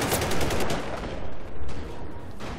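Vehicle-mounted gunfire in the Battlefield Hardline beta, a mobile command post against a crew cab: loud, dense automatic bursts that briefly dip and then resume, close and dominant, with no talk.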